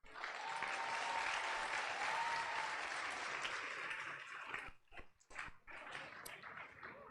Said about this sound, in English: How about a round of applause for your teachers?